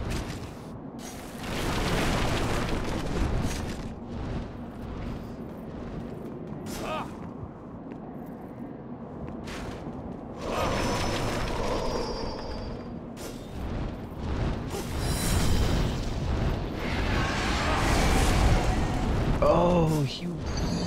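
Cannon fire in the video game Demon's Souls: several loud booming blasts and rumbling impacts spread irregularly over about twenty seconds, mixed with game clatter and with someone talking over parts of it.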